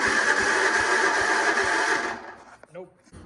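A 1968 Massey-Ferguson MF10 tractor engine struggling on a cold start, running with a rough, pulsing chug for about two seconds before sputtering out, then a brief voice.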